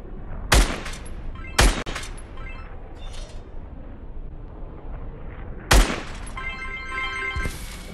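Video game gunfire at a Fortnite shooting gallery: sharp, loud single shots spaced irregularly, three clear cracks with quieter shots and game effects between them.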